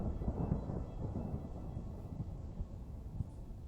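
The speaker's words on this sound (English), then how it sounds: "Sounds like the storm I think we're about to get here." A thunderstorm in a video game rumbles on steadily, with low continuous thunder and rain hiss filling the clip at moderate loudness and no voices.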